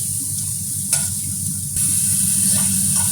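French fries deep-frying in hot oil over high heat, a steady close sizzle with occasional stirring scrapes and bubbling bursts, no talking.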